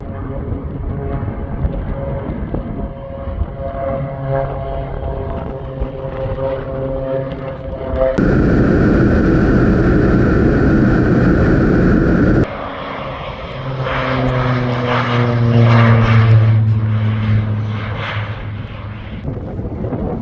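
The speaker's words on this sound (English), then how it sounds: "Just wait for the plane to come back now." A propeller plane drones past in windy conditions over rice fields, its engine rising to a loud, steady roar up close before fading and swelling again at a distance.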